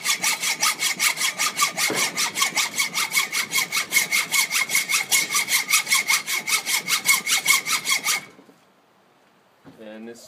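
Hacksaw with a 12-inch, 18-tooth high-speed steel blade cutting Micro-Melt Maxamet alloy steel: loud, close, rhythmic back-and-forth strokes, roughly three per second, for about eight seconds, then near silence and a brief scrape at the end.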